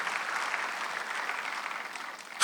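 Church congregation at a Sunday worship service clapping together, a dense even patter of many hands held steady before a louder burst at the end.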